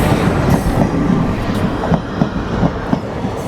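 A Puri express train rolls into Vijayawada station, three hours late, with a steady loud rumble and rhythmic clicks of wheels over rail joints throughout, no voices.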